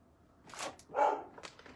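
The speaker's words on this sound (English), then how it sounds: "my dogs see them, and they're very jealous." Pet dogs bark jealously at other dogs being walked past, a few short close barks and yips in quick succession.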